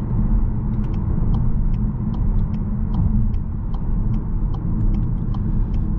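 A 2021 Skoda Octavia RS with a 2.0 TSI petrol engine driving, heard from inside as a steady loud low road rumble with faint repeated ticking above it.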